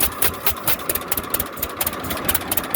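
A 1937 unstyled John Deere A tractor engine runs with no choke on a cold start, a loud, rough, uneven chugging of irregular thumps and knocks that carries on steadily with no talk.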